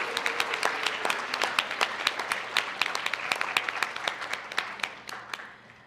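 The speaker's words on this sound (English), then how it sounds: "So a big round of applause." Audience applauds at a research event on healthy aging in HIV, individual sharp claps standing out clearly in an uneven rhythm before tapering off near the end.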